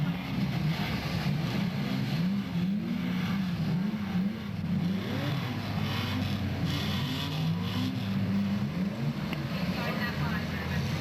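Banger racing cars, including a Rover, rumble and rev steadily under a commentator's continuous talk, a busy wavering engine drone that runs through the whole stretch.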